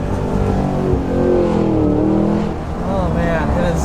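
A 2023 Cadillac Escalade-V accelerating hard in first gear, a loud, close engine roar whose tone climbs and dips with the revs, with a voice heard over it.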